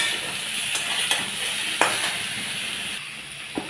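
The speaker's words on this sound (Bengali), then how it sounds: "1/2 চামচ মতন নুন দিয়ে ভালো করে নেড়ে নেব।" Vegetables for shukto being stirred in a pan with salt, a close steady sizzle broken by regular scraping strokes of a spatula.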